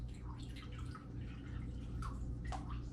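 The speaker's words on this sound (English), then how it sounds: "We're gonna go ahead and pour the Deer Park" Deer Park natural spring water trickles and splashes into a cup, a soft, close pour with scattered drips over a steady low hum, no voices.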